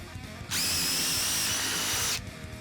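A DeWalt 20V MAX XR brushless drill driver spins up on speed setting 3, giving a loud, steady high-pitched whine that holds for about a second and a half before cutting off, with no talk.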